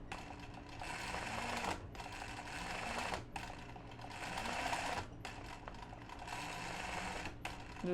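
Sewing machine doing zigzag free motion stitching, with rapid mechanical stitching in four bursts separated by short pauses, close and fairly loud, and no one talking.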